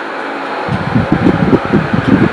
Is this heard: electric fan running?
yes